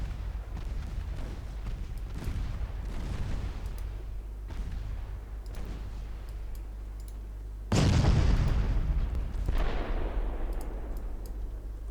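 Destroyer main guns firing in a naval warfare video game, heavy booming salvos rolling out one after another with a much louder blast near the end, with no talk.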